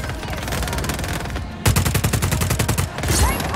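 Rapid automatic gunfire from the video game Just Cause 4 rattles in dense, loud bursts, a brief gap and then a second sustained volley with no talk.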